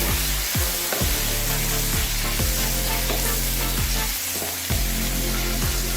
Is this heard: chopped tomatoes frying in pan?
yes